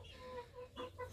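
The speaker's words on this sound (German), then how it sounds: "Das sind doch Hähne." Chickens, apparently roosters, cluck softly at a farm, with a few short, faint calls in quick succession and no talk.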